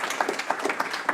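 Architecture talk audience gives a short round of applause, a moderate, close scatter of individual claps with distinct hand strikes, brief and unaccompanied by speech.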